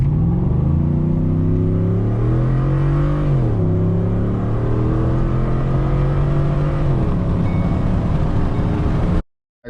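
A custom-tuned Ford F150 pickup truck pulling hard from a standstill to sixty, the engine note climbing steadily through two gear shifts, loud and close from inside the cab, then cutting off abruptly.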